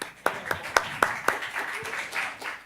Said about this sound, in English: Big clap. Welcome, John.